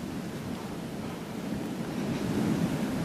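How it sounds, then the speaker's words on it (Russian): Surf washing onto Bang Tao beach in Phuket, a continuous broad rush of waves mixed with wind buffeting, swelling slightly toward the end. "Вот он, пляж Бангтао."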